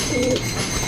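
A pigeon in a home loft gives a short, close, low cooing call over a dense rumbling background of other birds.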